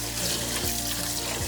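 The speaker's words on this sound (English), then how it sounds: "So you want to wash it with a little bit of warm water." Warm water running from a kitchen tap while rice is rinsed, a steady close hiss and splash continuing evenly throughout with no voices.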